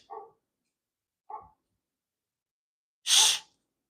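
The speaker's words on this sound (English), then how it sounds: "Damn, she could echo her bark really loud." A dog barks twice in short, sharp, spaced-out bursts close by, then a loud, breathy hiss follows that sounds like a shush.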